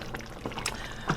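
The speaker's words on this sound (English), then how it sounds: "this is a chickpea bubbling up, cooking down" Chickpea curry bubbles in a pot as it cooks down, a close, steady wet simmer of soft pops and gurgles with a few louder blips.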